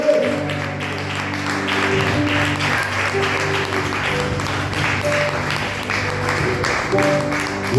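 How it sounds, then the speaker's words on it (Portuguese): A church congregation claps steadily over sustained organ or keyboard chords, the applause dense and moderately close, continuing for the whole stretch with faint voices beneath. "aplauda Jesus por essa palavra que você viu."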